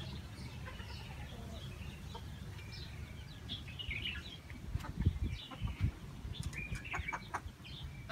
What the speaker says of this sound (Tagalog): Chicken. May manok.